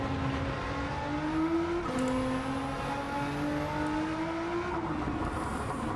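A Nissan Silvia with an engine swap in Gran Turismo 7 revs hard and steadily, its engine note climbing in pitch and then dropping sharply at two gear changes, heard alone without talk.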